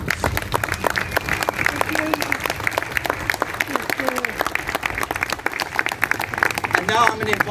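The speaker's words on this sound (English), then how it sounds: "Give him a round of applause" A crowd at an outdoor bandstand unveiling at Strawberry Field in Liverpool claps steadily for a donor, dense continuous applause with a voice heard over it.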